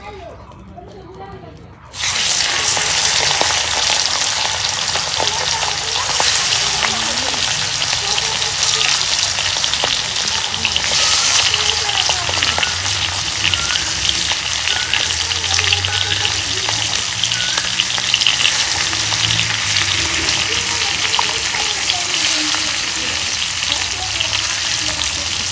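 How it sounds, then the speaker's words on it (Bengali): Rupchanda fish, coated with chili, salt and turmeric, hits hot oil and sets off a loud, dense, continuous hiss and crackle that runs unbroken for over twenty seconds after a quiet start. "এখন আমি মাছ ভাজা নেব।"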